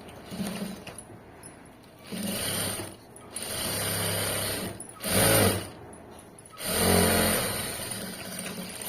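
A sewing machine stitches the side seam of a garment in several short whirring runs separated by brief pauses, loud and close, with one faster, higher-pitched burst in the middle.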